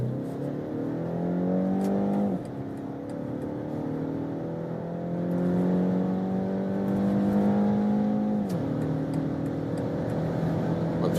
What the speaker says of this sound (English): It was a pretty nice sound, right? So for that 4-cylinder engine, of course with a little bit of enhancement